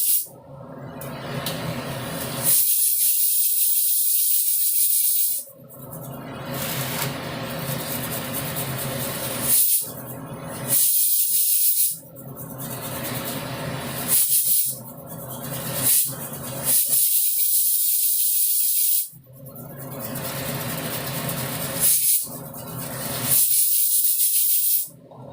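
Pressure cooker hissing steam while lunch cooks in a home kitchen, loud close bursts of sharp whistling hiss, each lasting several seconds and broken by short gaps, repeating throughout with no talking.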